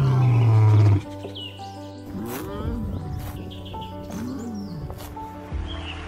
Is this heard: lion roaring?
yes